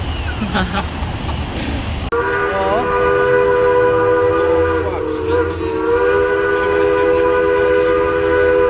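A steam train on the Durango–Silverton line sounds its whistle loudly, with long sustained tones over the rumble of the approaching train, and a few voices speak briefly early on.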